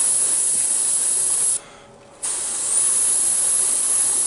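Airbrush hissing steadily as it lays a light weathering coat of paint on a model Union Pacific SD70 locomotive, close and continuous with one brief pause before it resumes.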